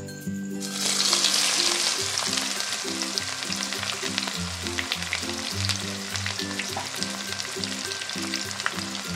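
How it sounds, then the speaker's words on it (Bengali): Onions sizzle and fry in hot oil for a village-style chicken curry, a continuous crackling hiss with occasional stirring clanks, close up and with no talking. "পেঁয়াজটা ভালো করে এখানে ভাজা করে নেব"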